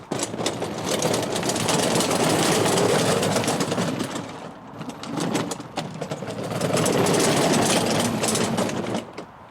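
Electric motor of a BMW power-wheels ride-on toy running at roughly half throttle, drawing about 25 amps: a steady, loud whine-hum sustained almost throughout, dipping briefly in the middle before rising again, with no talk.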